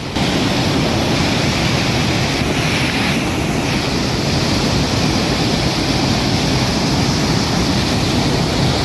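A loud, constant roar of water rushing through the opened dam gates of Himayat Sagar in Hyderabad, like a heavy torrent, steady with no pauses.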